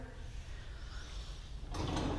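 An off-track kitchen drawer in an empty house slides with a low rumbling scrape, ending in a brighter clattering knock near the end, close and moderately quiet, with no talk.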